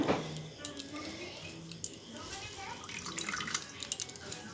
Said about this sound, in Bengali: এবার এই যে দেখুন, ছিপে জলটা বের করতে হবে।